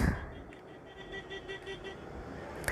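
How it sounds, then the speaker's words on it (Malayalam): A vehicle horn toots several times in short, faint, repeated bursts on the road during a bus trip, set against low traffic rumble with no voices. "അവന് ഹോൺ അടിച്ച് തിരിച്ച് നമ്മൾ ഹോൺ അടിച്ച് കൊടുത്തു"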